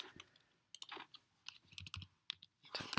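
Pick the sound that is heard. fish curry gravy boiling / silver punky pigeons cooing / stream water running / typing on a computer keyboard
typing on a computer keyboard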